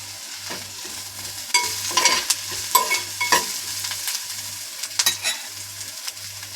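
Banana pieces frying in a pan for Andhra-style raw banana masala balls, with a steady crackling sizzle and repeated scraping spoon strokes stirring them, close and fairly loud, with no voices.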